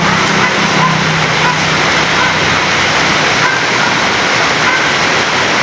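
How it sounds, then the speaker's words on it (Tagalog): Dense, loud hiss of heavy rain pours continuously, a steady close wash of falling water with no pauses. "Ang lakas ng ulan."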